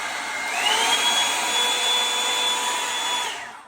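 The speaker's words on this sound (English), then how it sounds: "Let me show you guys what this sounds like, especially on low." A hair dryer brush on its low setting blows with a steady airy whoosh and a thin high whine, running continuously at close range, then cuts off at the end.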